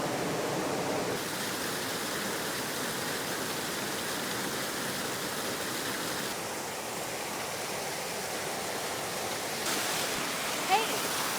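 Steady roar of water pouring over the rocks at Rosseau Falls, a dense, unbroken rush heard up close with no pauses and a brief faint sound near the end.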